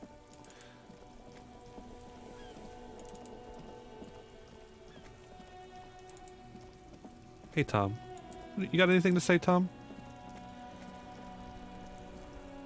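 Steady rain patters in a Detective video game while a car sits in a traffic jam, a constant wash beneath a voice that speaks briefly near the end.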